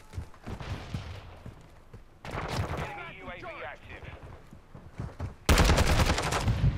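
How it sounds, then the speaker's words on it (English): Rapid automatic gunfire from the video game Call of Duty: Modern Warfare II during a 6v6 match, loud close bursts with a sharp final volley, while a player talks over the shooting. "That was fucking sloppy shooting."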